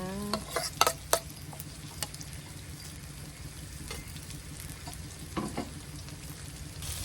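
Pounded chili stir-fried in a hot pan in a rustic Thai-Lao home kitchen, a steady close sizzle with a few scraping stirs of the spatula near the start and again partway through, no talking.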